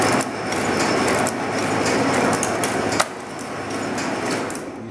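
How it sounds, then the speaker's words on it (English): A Rosback 203R saddle stitcher for book binding runs steadily, its stitcher heads cycling up and down in a continuous loud mechanical clatter with regular rhythmic clunks and a brief sharp knock partway through. "I'll just run the machine. You watch the stitcher heads go up and down."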